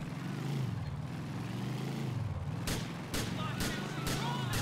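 Gunfire in GTA 4 The Lost and Damned, a few sharp, spaced shots in the latter half over a steady low engine-like rumble, moderately loud.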